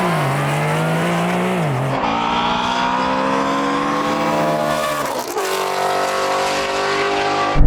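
A Porsche 911 and a Shelby GT350 Mustang race side by side down a drag strip, engines roaring loudly with rising revs and gear-change dips, sustained and close without pause.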